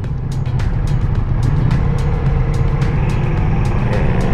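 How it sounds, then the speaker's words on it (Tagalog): A car passing on the winding Gavia or Stelvio mountain pass in Italy, heard from a Ducati motorcycle, its engine rumbling steadily over heavy wind and road noise, with sharp clicks scattered throughout. "Oh, may kotse."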